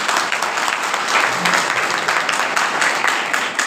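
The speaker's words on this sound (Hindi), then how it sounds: "इनके लिए जोरदार ताली बजाओ।" A church congregation at a Sunday fellowship meeting breaks into sustained, loud applause, a dense wash of clapping that holds steady from start to finish.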